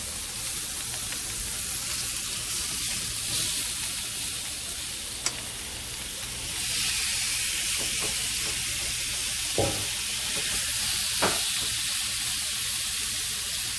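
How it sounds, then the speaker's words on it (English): Shrimp sizzle steadily in a pan on a stovetop, a loud continuous hiss with a few brief clicks and scrapes as they are moved around, and no voices. "Now I'm going to finish cooking the shrimp."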